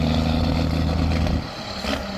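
Alvis Stalwart amphibious military truck with its engine revving loudly and close, a steady low rumble with strong harmonics that drops back partway through, then rises again briefly.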